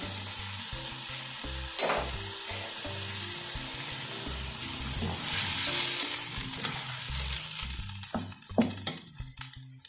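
Chicken white korma frying in a pan after coriander powder is added: a steady close sizzle with scraping stirs and a few sharp clinks, with no talking.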